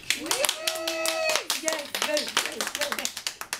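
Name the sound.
hand claps for nephrology and rheumatology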